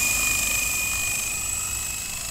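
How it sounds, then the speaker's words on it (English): A Blade CX4 remote-control helicopter flies outdoors, its rotor and motor producing a steady, fairly loud whine with a high pitched tone that holds throughout. "It's not a very fast helicopter."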